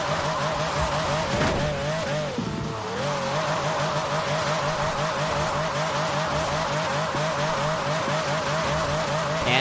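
Continuous, loud engine howl of a Formula 1 car in Forza Horizon 4, holding a steady high drone with a brief dip and surge of revs early on, tire squeal and skidding mixed in throughout.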